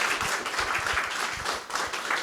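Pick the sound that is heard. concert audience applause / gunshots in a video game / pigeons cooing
concert audience applause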